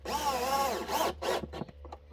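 A power drill drives screws into wood while building a chicken coop. Its motor whines up and holds, then gives a few short bursts and clicks, close and fairly loud.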